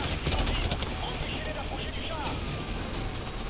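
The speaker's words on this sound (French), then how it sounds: "ça tire en lance-roquette et tout" Continuous gunfire and rocket launcher blasts in the Call of Duty Modern Warfare Remastered battle, dense and steady for the whole stretch, with voices talking over the din.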